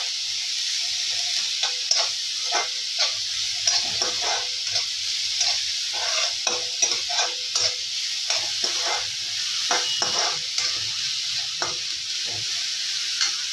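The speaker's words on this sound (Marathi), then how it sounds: "हे पण आपण खूप छान पद्धतीने भाजून घेऊया।" Chutney ingredients stirred and roasted in a hot pan: a soft continuous sizzle with repeated scraping strokes of a spoon, close and fairly quiet, with no talking.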